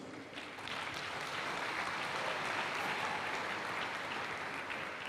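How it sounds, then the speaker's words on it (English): Sustained audience applause at an event in Nigeria, a dense steady roar of many hands clapping that swells after a brief softer start and holds strong throughout. "Please give them a round of applause."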